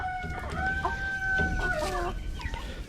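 A flock of pet chickens with two roosters, clucking close by while a rooster lets out a long drawn crow, the birds' calls overlapping in a busy coop.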